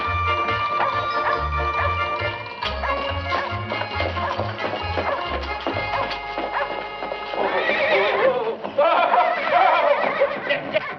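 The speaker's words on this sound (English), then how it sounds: "Your horse ran away again, Mrs. McGee." A horse whinnies loudly over a busy musical score, with heavy rhythmic low thumps early on and brighter, swelling tones later.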